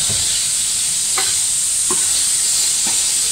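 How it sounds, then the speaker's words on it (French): Courgettes sear in a wok more than ten years old, a loud steady high sizzle and hiss throughout, broken by a few sparse stirring clinks and scrapes close by with no talk. "Là, on peut bien saisir les courgettes."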